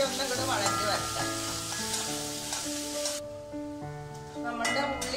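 Onions sautéing with salt in a pan for a Kerala ten-leaf stir-fry give off a steady, close sizzle, with melodic background music playing throughout.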